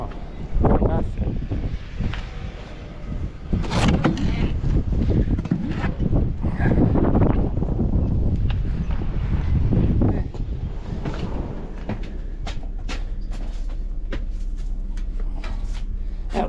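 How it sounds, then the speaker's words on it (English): Strong outdoor wind buffets the microphone in steady low roaring gusts through the whole stretch, with a few clunks and knocks of objects being moved and brief talk near the start. "That wind is really something else."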